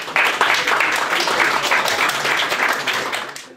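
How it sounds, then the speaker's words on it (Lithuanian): Audience applause for Antanas Venskus, owner of Taurų parkas, at a quiz show final: steady, dense clapping from a crowd that starts abruptly and holds at a fairly even level throughout, with no speech over it. "Aplodismentai jam."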